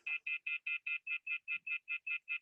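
A phone sounds a series of twelve evenly spaced short electronic beeps, quick and steady, fairly faint against an otherwise silent background.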